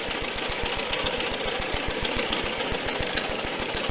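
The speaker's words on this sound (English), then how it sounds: "I wanted you to hear it running." A 1928 Austin 12 Heavy vintage car engine runs at a steady idle, its rhythmic low chugging pulses close and even throughout, with no voices.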